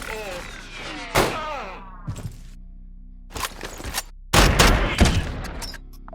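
Gunfire in the QuasiMorph video game comes in a few sharp bursts and volleys, the last one loud and sustained, with a person talking in between.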